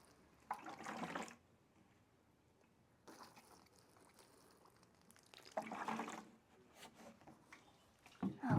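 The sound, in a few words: watering can pouring water onto seed trays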